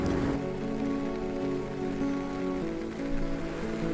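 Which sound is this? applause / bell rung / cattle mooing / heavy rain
heavy rain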